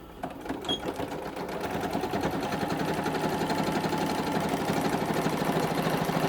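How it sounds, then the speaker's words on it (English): A sewing machine stitches vertical lines down the middle of a design on a quilted pillow sham, running in a steady, rapid, continuous mechanical rhythm at close range with no voices. "lines that I'm just sewing down the middle of these of this design part here on my pillow sham"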